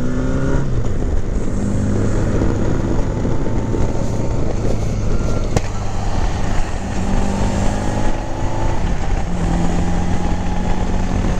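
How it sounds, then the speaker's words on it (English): 1983 Honda Goldwing GL1200 motorcycle cruising in overdrive, a steady low engine drone with shifting tones under constant wind rush, heard from the rider's position without pause. "What a smooth riding bike."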